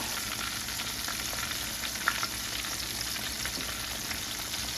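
Southern-style chicken fries in hot grease with a dense, steady sizzle and crackle, close and continuous, and one brief pop partway through.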